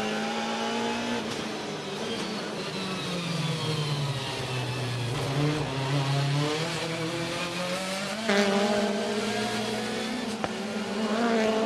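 A WTCC touring car at Vila Real, Portugal, heard onboard, brakes hard and downshifts toward second gear. The engine pitch drops in stepped falls with blips, then climbs again, loud and continuous.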